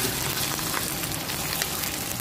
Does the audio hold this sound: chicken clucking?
no